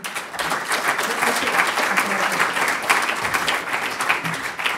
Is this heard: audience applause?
yes